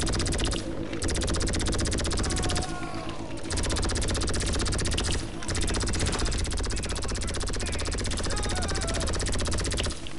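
Automatic gunfire with heavy recoil rattles almost nonstop in a first-person shooter video game, loud and close, broken by a few short pauses, with a player's voice talking over it.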